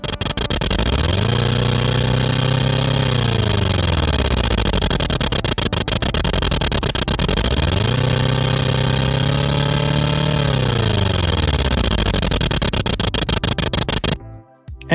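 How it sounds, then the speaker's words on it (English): A synthesized vehicle engine made in Kilohearts Phase Plant drones loudly and steadily, its pitch rising and falling twice like revving, before cutting off abruptly near the end. "we have something that could already almost qualify as a vehicle engine"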